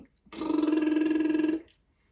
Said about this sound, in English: let's try and do a lip trill with an I sound behind it